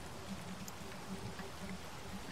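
Rain falls steadily in the survival game Space Engineers, a soft, continuous patter of drops hitting surfaces at low volume, even and unbroken with no voices.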